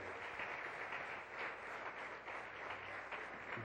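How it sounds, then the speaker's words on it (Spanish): Congregation applauding during a Sunday church service, a steady, faint wash of many hands clapping together, sustained with no pause throughout. "Entonces denle una ofrenda de palmas al Señor."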